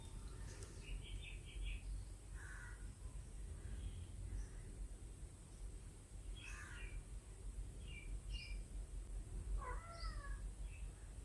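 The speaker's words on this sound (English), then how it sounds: "She's doing meow" Faint, scattered meows from a cat come through a steady low background hum, spaced irregularly over several seconds.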